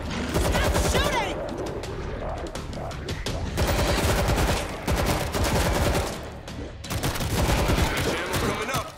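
Heavy gunfire in the zombie shooter World War Z, set in New York, with dense overlapping bursts of automatic weapons that roar continuously and loudly throughout, and voices shouting underneath.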